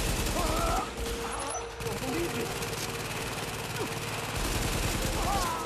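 A deployable turret fires in rapid bursts during a firefight in Tom Clancy's The Division, mixed with other gunfire, game effects and a player talking over the action.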